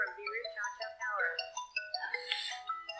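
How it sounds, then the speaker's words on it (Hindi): A mobile phone ringtone for an incoming call, a clear melodic sequence of bright electronic tones repeating over three seconds, fairly faint with nothing else beneath it. "उन्हीं का फ़ोन आ गया है"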